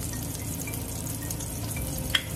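Garlic sizzles in hot oil in a pan for pakbet, a steady, soft frying crackle with faint stirring and one small clink near the end.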